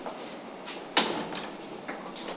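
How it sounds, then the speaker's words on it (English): A door is opened with a sharp knock-like clack followed by a lighter click, heard close in a quiet room. "How do I open these doors?"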